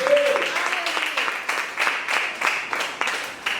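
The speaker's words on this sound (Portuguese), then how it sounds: "Quantos podem aplaudir o Todo-Poderoso?" A church congregation claps during a teaching service, the applause moderately close and steady with uneven bursts over a few seconds, and some voices mixed in.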